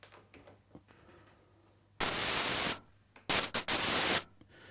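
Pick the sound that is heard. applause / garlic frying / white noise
white noise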